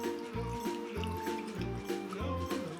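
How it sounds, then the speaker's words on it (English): Water pours and trickles onto a small homemade water wheel, giving a soft, continuous splashing under a faint repeating musical background. "Then when pouring, try not to pour into the middle hole."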